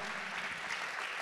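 A church congregation claps their hands together in a dense, steady burst of applause that fills the room briefly.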